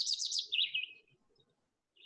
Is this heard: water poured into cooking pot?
no